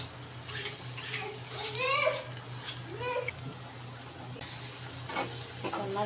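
Coriander leaves go into a pan of frying dried fish and spring onion leaves, giving a soft steady sizzle with light utensil clinks while someone talks over it.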